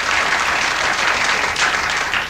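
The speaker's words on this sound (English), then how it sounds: "they're applauding." Late-night talk show studio audience clapping, a dense and even wash of applause that stays loud and steady throughout, with no voices above it.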